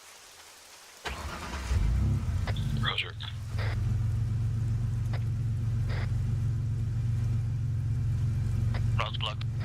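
Car engines start and rumble steadily as vehicles are moved to block a road in a military video game, a low continuous drone with brief radio-style voices cutting in over it.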